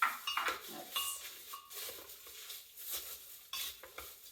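Dehydrated vegetable powder being stirred by hand in a container, with quiet scraping and rattling strokes, light clinks of utensil against the sides, and uneven bursts of movement throughout.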